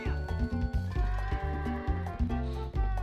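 Repeated bleats of goats being herded in Zelda: Twilight Princess, several short, wavering calls in quick succession against faint game background.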